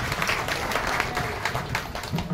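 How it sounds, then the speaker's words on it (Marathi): An audience claps loudly and steadily throughout at a public gathering, a dense sustained burst of applause with no pauses. "पुन्हा तिसऱ्यांदा तुमच्यासाठी सुद्धा टाळ्या वाजवा जोरात"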